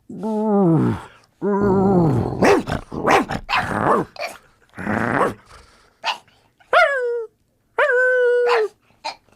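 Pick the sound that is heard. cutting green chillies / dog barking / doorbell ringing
dog barking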